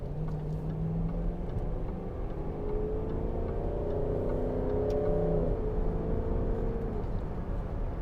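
A 2012 Range Rover 4.4 TD V8 Westminster pulls away under acceleration, its engine note rising gradually from inside the cabin, a smooth muffled hum with no talking.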